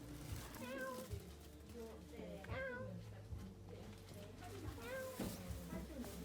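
A cat in a yarn shop meows repeatedly, with several drawn-out calls spaced across the stretch, close by and moderately loud, while people talk quietly in the background.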